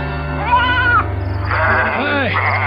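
Goats bleating as a radio drama sound effect: several loud, close, wavering bleats, one near the start and overlapping calls later, over a steady low hum.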